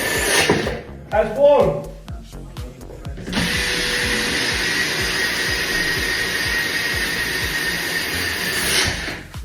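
Power drill boring through porcelain tile, a steady loud whine sustained for several seconds after a short start, with someone talking briefly before it begins.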